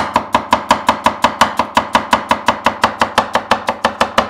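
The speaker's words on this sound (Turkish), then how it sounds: "şöyle ince ince doğrayalım arkadaşlar." A knife chops an onion finely on a cutting board in a home kitchen, with about twenty sharp, evenly spaced strokes in a fast steady rhythm, close and crisp, with no talking.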